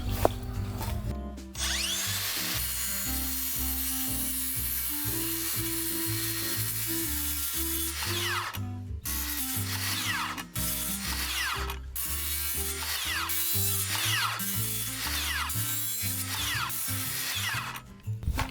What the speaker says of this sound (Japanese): これでこの線の部分を切っていきます